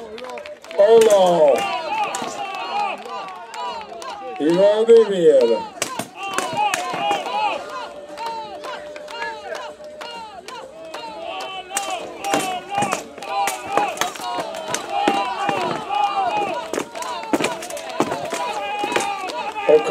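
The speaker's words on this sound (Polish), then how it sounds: "Oklaski cały czas i doping, doping, walka finałowa" Crowd applause and cheering at a wrestling final during the O Srebrny Pas Grunwaldu tournament, steady rhythmic clapping and chanting across the whole stretch, with a commentator's voice talking over it.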